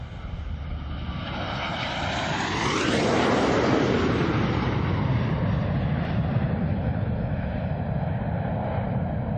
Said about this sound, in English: Approaching from the right at 350 miles per hour, the 5-plane line abreast flat pass.